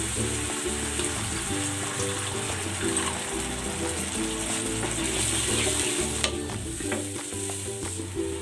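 Steady sizzling and bubbling from chicken simmering in boiling water in a pot on the stove, with occasional stirring clatter and a low mechanical hum underneath, continuous throughout.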